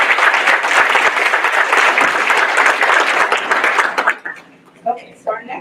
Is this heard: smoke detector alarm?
no